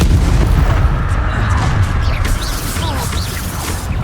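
Bombarda spell explosion in the video game Hogwarts Legacy, a loud, deep booming blast with crashing debris and whooshes that rumbles on for several seconds, with faint voice fragments underneath.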